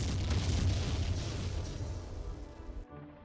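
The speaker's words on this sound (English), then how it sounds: "I was gonna say that felt like a set of 2 explosions" C1 explosives go off in the video game Jagged Alliance 2, a loud low rumbling blast that fills the opening seconds and slowly decays before cutting off abruptly; separate detonations are not distinct.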